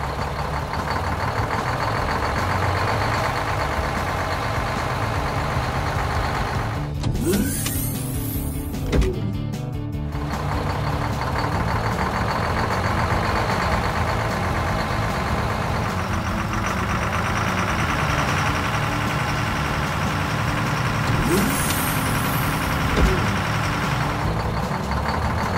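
Construction machines in an Italian children's toy-town cartoon, a steady loud mechanical whirring and engine drone with hydraulic-like motor sweeps and clanks, alone without talking.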